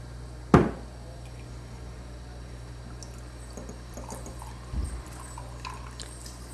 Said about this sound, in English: I'm gonna pour it in here